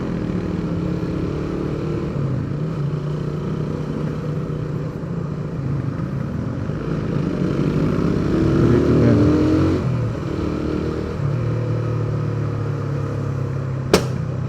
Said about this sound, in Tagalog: ba't ang lakas ng backfire ng motor ko